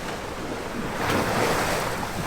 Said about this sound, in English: It seems faster looking out the low side window, the water's rushing by.